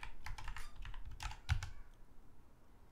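Close, quick typing on a computer keyboard, a run of sharp clicks ending with one firmer keystroke before things go quiet.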